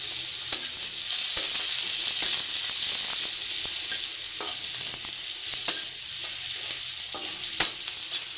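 Onion and garlic fry in a pan for coriander-leaf noodles, a continuous crackling sizzle broken by repeated sharp clinks and scrapes of a spoon stirring, close up with no speech.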